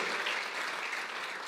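A church congregation applauds during a sermon, a brief, dense burst of many hands clapping together at moderate volume.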